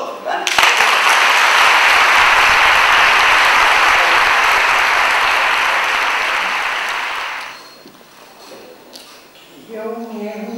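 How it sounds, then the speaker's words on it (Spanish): Loud, sustained audience applause at a Spanish-language concert presentation, a thick roar of clapping from many hands lasting about seven seconds before fading, then a voice begins speaking near the end. "Un aplauso para ella"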